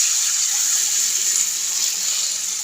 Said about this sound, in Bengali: এই জন্য একটু জল দেবো, যাতে ডালের স্বাদটা বেড়ে যায়।